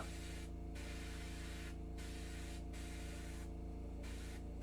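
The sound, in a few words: paint spraying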